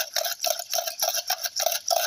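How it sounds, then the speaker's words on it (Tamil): Curd being churned by hand into buttermilk makes a rapid rhythmic swishing and slapping, about eight quick close strokes in a steady beat, with no talking. "இது பேர் இப்படி மோர் சிலிப்புன்னு சொல்லுவாங்க."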